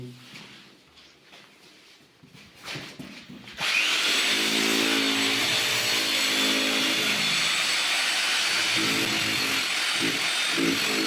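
A loud, continuous rotary hammer drill roars nearby in a house under renovation, steady and harsh after a few seconds of quieter knocking and shuffling at the start.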